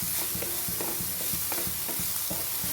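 Chopped shallots, ginger and garlic sauté in a pan with a dense, close sizzle, while quick, regular stirring strokes scrape through it in a steady rhythm.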